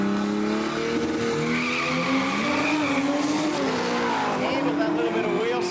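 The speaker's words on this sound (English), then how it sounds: "Handle that little bit of wheel spin, can handle the wheel spin, but then it's got pure power" Race car at a Quick Street drag racing event spinning its wheels, with loud tire squeal and skidding over a roaring engine whose pitch rises and wavers, heard up close and sustained, with commentary talking over it.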